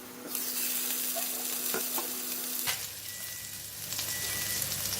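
Chicken grills in a lightly oiled pan over low heat. A close, even sizzle hisses throughout and shifts in tone partway through, with no talking.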